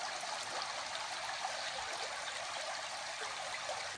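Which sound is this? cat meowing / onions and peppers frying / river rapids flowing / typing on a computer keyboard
river rapids flowing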